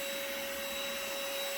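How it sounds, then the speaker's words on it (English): A household vacuum cleaner with HEPA exhaust filtration runs continuously, a loud close-up motor drone with a steady whine on top. "This vacuum here, it has HEPA filtration for the exhaust and inside."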